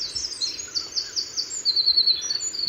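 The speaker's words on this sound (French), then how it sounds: "Comme ce chant de l'oiseau qui revient dans son territoire." Migrating bird singing after arriving at its breeding territory, a rapid series of high thin chirping phrases over a soft outdoor background, moderately close.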